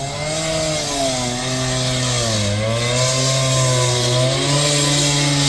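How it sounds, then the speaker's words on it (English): Construction noise nearby, heard as a loud, continuous whining motorised drone with shifting pitch, like a chainsaw or power saw cutting, steady and alone throughout. "It's like construction going off over there."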